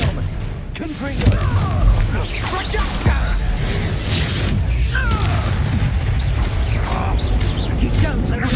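Confringo fire spell blasts in the Hogwarts Legacy video game, a dense run of booming, thudding explosions over a busy combat soundscape, with speech throughout.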